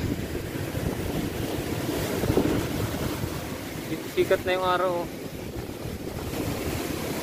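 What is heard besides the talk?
strong sea waves during typhoon Quinta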